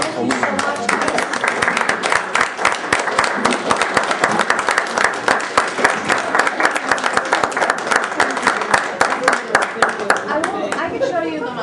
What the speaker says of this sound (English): Could we just do a round of applause for Bratt?